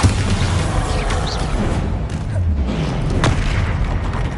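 A Bombarda explosion spell cast in a Hogwarts video game, a loud, dense booming blast with rumbling debris that fills the whole moment, close and sustained without any voices.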